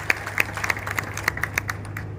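Sparse, scattered hand claps from an audience at a political rally, a light patter of individual claps rather than a full ovation, heard alone.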